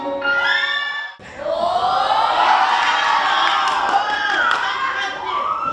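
A large crowd at a dance team's stage performance erupts in loud, sustained cheering and high-pitched screams, swelling after a brief dip and staying intense, with shrill whoops layered over the roar.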